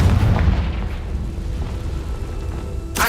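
Confringo blasting spell explosion in Hogwarts Legacy, a heavy booming blast with deep low rumble that rolls on and decays, followed by a sharp fresh burst at the end.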